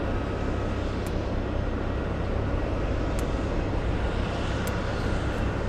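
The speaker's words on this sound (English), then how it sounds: "We have American Airlines flying to DFW. This is starting its takeoff roll right next to us." An American Airlines jet bound for DFW begins its takeoff roll at Boston Logan airport, a steady, broad engine roar that holds loud and even throughout, close by with no voices.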